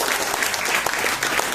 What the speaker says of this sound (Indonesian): nggak tepuk tangan dong Bapak Ibu